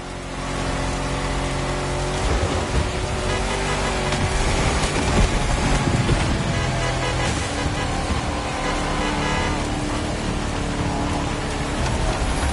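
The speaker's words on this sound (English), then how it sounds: "As I speak, the weather's rainy as hell." Steady heavy rain in The Crew Motorfest racing game, a dense unbroken hiss mixed with vehicle noise, continuous for the whole stretch with no talking.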